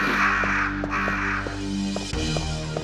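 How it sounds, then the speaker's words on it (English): Crows caw repeatedly in Resident Evil: Director's Cut, sharp calls over a low sustained game soundtrack hum. "The crows are still there"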